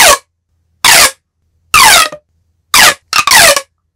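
Five loud, separate bursts of a pop tube fidget toy, each a brief whirring, hooting whoosh, with short silences between and the last two nearly joined.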